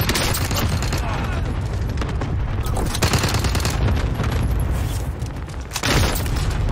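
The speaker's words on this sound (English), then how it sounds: "Sniper at close range, gotta love that." Rapid, loud gunfire and booming explosions from a close-range sniper rifle fight in the video game Warzone, a dense continuous barrage of shots with a player's voice talking over the chaos.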